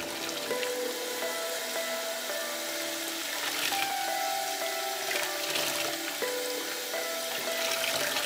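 Turkey tail fan being sloshed by hand in lukewarm water with Dawn dish soap, a steady close watery swishing and splashing with a faint tonal hum underneath, no talking.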